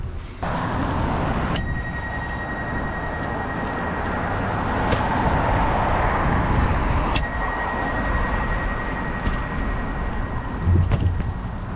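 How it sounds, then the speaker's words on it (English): A small Crane Suzu Mini bicycle bell rings twice, each a bright, clear ding that rings out and fades, with steady rumbling noise underneath. "The bell is a Crane Suzu Mini"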